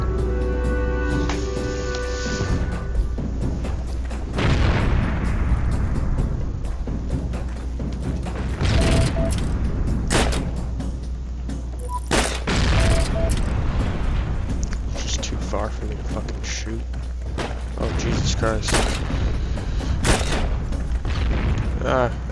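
Gunfire and heavy explosions from the Heroes and Generals war shooter game come in sharp booming bursts spread across a steady low rumble, loud and close, with people talking excitedly over them.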